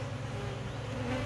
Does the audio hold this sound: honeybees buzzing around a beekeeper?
yes